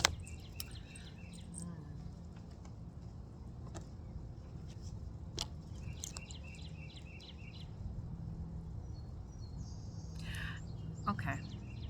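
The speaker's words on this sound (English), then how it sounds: "Always remember, hearing the birds is so healing." Outdoor birdsong with repeated bright chirps and short trills at moderate distance over a low steady background hum, with a soft continuous insect-like buzz underneath.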